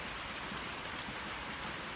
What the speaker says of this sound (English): And it's also raining out here, outside my house.